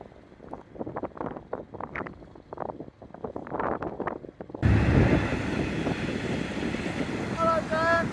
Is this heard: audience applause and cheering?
no